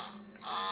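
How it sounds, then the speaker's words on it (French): The timer on a Zeitgard facial cleansing brush gives a single short, high, steady beep. It is faint and heard alone over a low background hum. "Maintenant, ça fait un deuxième bip."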